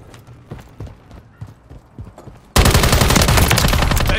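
Loud, dense automatic gunfire in Call of Duty Modern Warfare 3 erupts partway through and keeps going as rapid, sustained bursts. Quieter scattered shots and game sounds come before it.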